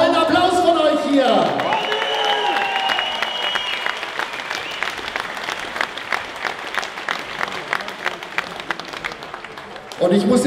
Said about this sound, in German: als Dankeschön bekommen sie noch mal einen tollen Applaus von euch hier